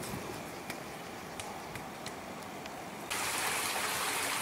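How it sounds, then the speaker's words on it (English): Water of a stream in the wild in Fiji runs steadily in a continuous rushing wash, with a few faint clicks early on and a louder surge of flow near the end. "Can you hear that sound? That's the sound of running water."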